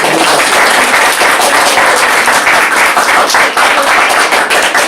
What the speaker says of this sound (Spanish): Por favor, le damos un aplauso.